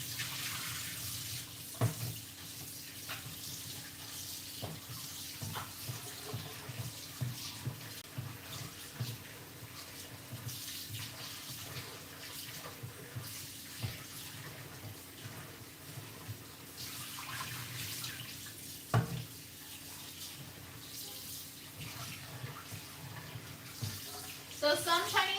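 A kitchen tap runs steadily while meat is rinsed under the stream, producing a continuous close splashing wash of water with occasional small clatters and a faint voice in the background.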